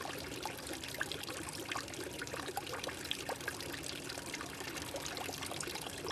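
Water pours and trickles steadily in a continuous, even stream, fairly close and alone, with a fine splashing texture throughout.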